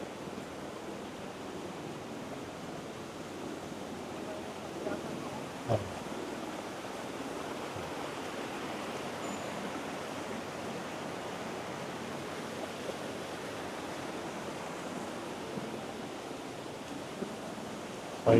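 A man-made water cascade in a forest, a soft steady rush of falling water heard from some distance, low and even throughout with no voices.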